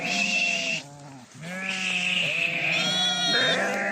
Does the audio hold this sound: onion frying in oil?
no